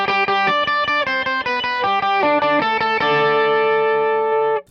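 An electric guitar through a Fractal FM9 with an octave pitch effect and boost plays a quick repeated riff with a doubled, shimmering octave tone, ending on a sustained chord.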